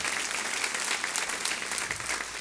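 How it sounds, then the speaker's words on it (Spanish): A church congregation applauds loudly and continuously, a thick wash of clapping at moderate distance. "Denle un aplauso fuerte al Señor."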